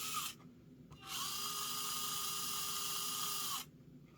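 A small Axial SCX24 RC crawler's electric motor whirs as it spins the tires, a steady high-pitched whine that starts, cuts out briefly, then runs for a few seconds before stopping.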